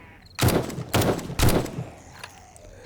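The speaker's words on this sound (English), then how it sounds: "And then of course the pipe sniper rifle." A pipe sniper rifle in 7 Days to Die fires three sharp, booming shots about half a second apart, each with a short echoing tail, loud against a quiet background.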